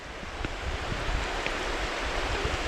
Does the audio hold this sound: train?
no